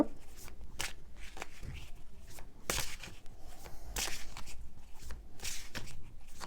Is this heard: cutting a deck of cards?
yes